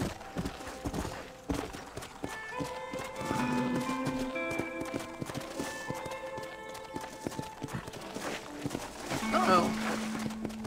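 Rapid hoofbeats of a horse in Red Dead Redemption gallop steadily in the foreground, joined by tonal game music and effects, with a bright rising flourish near the end.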